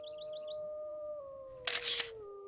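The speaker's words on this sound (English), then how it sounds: "their howls once again echo through the valleys as new wolves reclaim their voice" A long, sustained wolf howl in Yellowstone glides slowly downward, joined by a second higher voice, with a brief burst of noise partway through.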